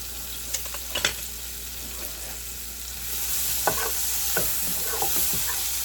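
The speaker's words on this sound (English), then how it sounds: "I'm like stir frying the garlic and the pepper up in here" Soft sizzling and scraping of garlic and red bell pepper being stir-fried in a hot pan, with a few clatters of a utensil against the pan, close by and steady.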